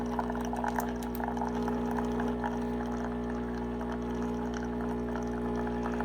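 A Starbucks Verismo 600 espresso maker brewing coffee gives a steady, continuous pouring and hissing stream with a low machine hum underneath, even and unbroken throughout, with no talking.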